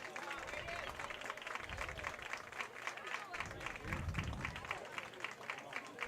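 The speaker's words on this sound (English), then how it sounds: "Aiden Boyer getting a round of applause from the crowd" A baseball crowd applauds pitcher Aiden Boyer as he leaves the game. The clapping is faint and distant, a soft steady patter from the stands running under an announcer's commentary.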